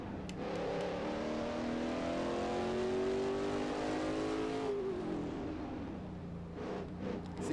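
A Plymouth Superbird race car in the Assetto Corsa racing game drones with a steady, rising engine whine that climbs through the revs, then shifts and falls back, heard continuously at moderate level.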